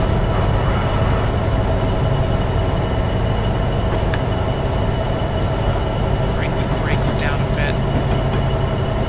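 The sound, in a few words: train in Train Sim 2015 video game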